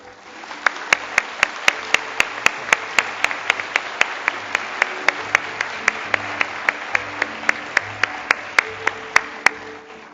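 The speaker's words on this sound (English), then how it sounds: "let's welcome Professor Paul Krugman with a big round of applause" An audience at the 2018 Jeju Forum applauds steadily as a Nobel-winning economist is welcomed to give a special lecture. The even roar of clapping lasts about ten seconds, with sharp, regular clicks punctuating it.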